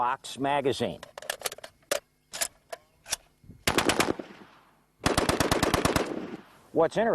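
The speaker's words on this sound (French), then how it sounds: "est une mitrailleuse légère qui permet au peloton de bénéficier d'un feu de soutien." Bursts of light machine gun fire in a World War II video game set in the Ardennes, rapid repeated shots in two long volleys with shorter pops between, loud and close, with a voice briefly heard near the start and end.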